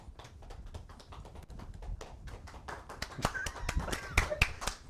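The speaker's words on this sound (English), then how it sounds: "I love the late applause, like 30 seconds." Scattered, late-starting applause from a small audience at a WDW News Tonight taping, a few uneven claps at first, building into denser clapping toward the end, fairly quiet overall.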